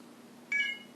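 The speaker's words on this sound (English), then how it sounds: "You heard the phone chirp, the lightning bolt came on, and my iPhone is now charging." An iPhone gives a short, clean electronic chirp as it starts charging from a Poweradd Pilot X2 7800mAh battery pack, a single bright tone heard nearby over a faint room hum.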